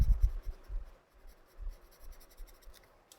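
A pen inks a drawing on a paper tile in soft, close, scratchy strokes, a quiet irregular rhythm of short scribbles with brief pauses between them.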